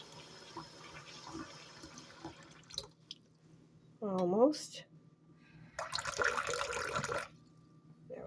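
Tap water running into a measuring cup for cooking quinoa in a home kitchen, heard in short faint bursts, then a sloshing pour and a stronger rush of flow near the end, with a brief spoken word.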